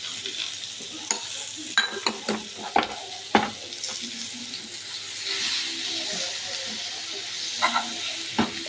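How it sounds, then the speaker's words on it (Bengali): Ridge gourd stir-fries with tomato paste and fish roe in a pan, giving a steady sizzle near the mic, broken by sharp scraping strokes of a stirring utensil. "এর মধ্যে এবার আমি দেব পেস্ট করা টমেটো, তারপর দেব কিছুটা পরিমাণ মাছের ডিম।"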